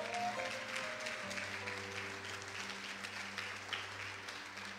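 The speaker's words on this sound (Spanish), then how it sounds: "denle un aplauso al Señor" A church congregation claps during a Spanish-language sermon, a soft, fairly distant wash of applause lasting a few seconds over low sustained musical tones.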